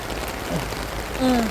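Steady rain pattering and hissing across a surface, with a couple of brief faint squeaks near the end.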